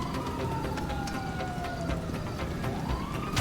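Police car sirens wail during a chase in the video game GTA Online. A single drawn-out siren tone slides downward and then rises again over a dense engine and traffic rumble, with sharp game effects scattered through it.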